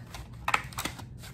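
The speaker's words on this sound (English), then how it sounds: "get your scissors in one hand and make a snip" Scissors snip through a folded paper plate: a few short, crisp cuts, close and fairly quiet, with brief pauses between them and no talking.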